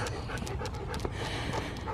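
Puppies out on a walk beside a lake pant quickly and softly in a steady rhythm close by, with faint outdoor ambience and no talking.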